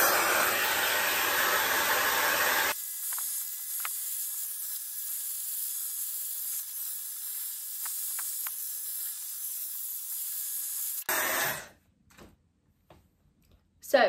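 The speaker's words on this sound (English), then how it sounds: "the first thing I do is blow dry my hair" A Dyson Airwrap hair dryer on top heat and fan settings blows with a steady, loud broadband rush that drops to a lower setting partway through, then cuts off, leaving a few faint handling noises.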